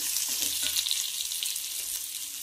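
Tamarind and salt sautéing in a pan, giving a steady close sizzle with bright crackling and occasional soft stirring scrapes, no voices.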